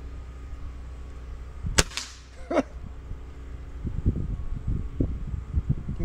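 A Gamo Swarm Whisper .22 caliber air rifle fires once outdoors with a sharp, close crack, followed moments later by a fainter impact snap, then quieter rustling and handling noises.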